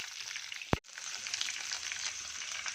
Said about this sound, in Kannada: ಗೋಡಂಬಿ ಚೂರು ಹಾಕ್ತಾಯಿದ್ದೀನಿ. ಎರಡು ಹಸಿಮೆಣಸಿನ್ಕಾಯಿ. ಇದೆಲ್ಲ ಸ್ವಲ್ಪ ಫ್ರೈ ಆಗಿ ಚೆನ್ನಾಗಿ.